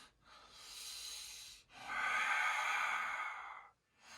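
Slow, deep breathing during a yoga forward fold in a hatha practice, two long airy breaths, one easing out and a fuller one after a short pause, close and soft with no talk.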